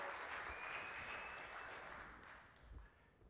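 Church congregation claps during a sermon, a soft, distant wash of applause that thins out toward the end.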